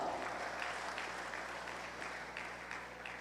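An awards audience at the Most Outstanding Pimpeño Awards claps together in a steady, moderately distant round of applause that holds throughout and softens slightly near the end.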